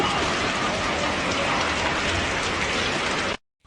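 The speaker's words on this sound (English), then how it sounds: "Al Ain City witnessed the highest amount of hail in the country" Heavy rain and hail pounding down during a storm in Al Ain, UAE, a dense, loud, unbroken hiss and clatter that cuts off abruptly near the end.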